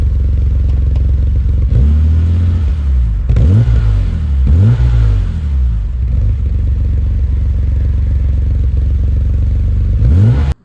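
A BMW S38 engine in a BMW E24 M6 idles with a deep rumble, then revs sharply several times through a throaty handmade Supersprint exhaust before cutting off abruptly.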